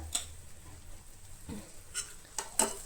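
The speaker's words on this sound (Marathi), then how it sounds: "इल्लोसो लिंबू पिळटलें आनी ही मिक्स करून घेतलें" Soft scraping and tapping of a spoon mixing masala pav bhaji in a pan after lemon is squeezed in, a few faint stirring knocks over a low background hum.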